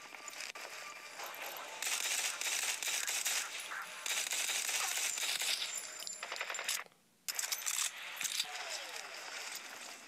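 Gunfire in a shooter video game sounds as rapid bursts of sharp metallic shots with brief pauses and one short silent gap, while a person talks intermittently over it.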